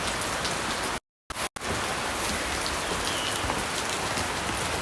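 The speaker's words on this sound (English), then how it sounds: "we're gonna have some rain and enjoy some rain" Steady, dense rain pours in Phuket near Boat Lagoon, a loud, close hiss of drops hitting surfaces, broken by a brief dropout near the start before continuing unbroken.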